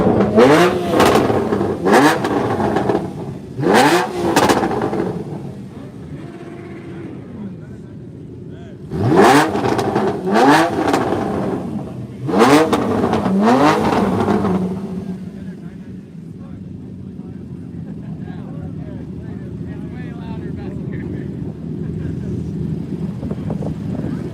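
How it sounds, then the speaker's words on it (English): Car engines rev hard in repeated loud bursts as cars leave a Coffee & Cars meet at COTA, each roar rising and falling, then fading to a steady low rumble with wind noise and people talking nearby. "as everyone's leaving, everyone's just revving"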